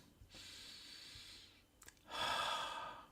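Slow, audible breaths from people taking a deliberate pause, a long hissing inhale followed after a short break by a louder, fuller exhale, close and unaccompanied by talk.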